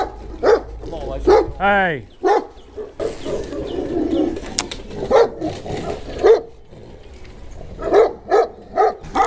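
Dogs at a lakeside house bark repeatedly during a bass fishing tournament, sharp, moderately near barks coming in bursts, with a voice calling out between them.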